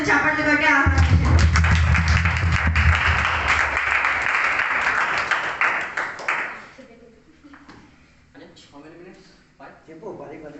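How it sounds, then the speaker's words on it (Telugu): The audience at a church fellowship meeting claps to welcome a speaker, with dense, fairly loud applause that fades after several seconds and then gives way to voices and quieter sounds. "అందరూ చప్పట్లు కొట్టి ఆహ్వానించారు"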